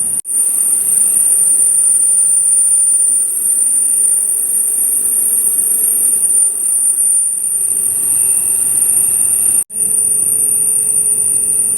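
A DC series motor runs under increased shaft load during a lab load test, giving a steady, continuous electric hum with a high whine. It breaks off for a moment near the end.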